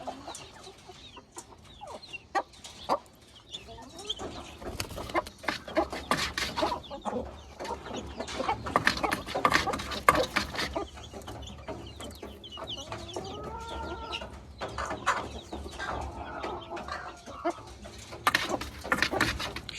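Poultry cluck and murmur nearby, with scattered squawks over a busy farmyard background of rustling and faint voices.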